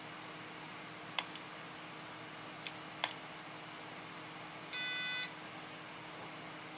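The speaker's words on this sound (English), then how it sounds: "God, that notification sound is so scary." A ReactOS system notification plays a short, harsh, buzzy electronic tone alone near the end, after a few faint clicks and taps from a keyboard and mouse.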